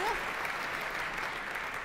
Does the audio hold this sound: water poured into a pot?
no